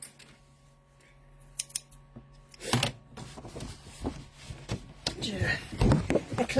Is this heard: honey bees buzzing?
no